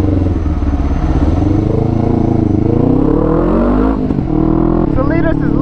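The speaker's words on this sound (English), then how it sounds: "It does have a full akrapovic exhaust." A 2002 Kawasaki Ninja 500R motorcycle fitted with a full Akrapovic exhaust runs loud and close, its engine note steady with a slight rise in pitch partway through, under continuous talking.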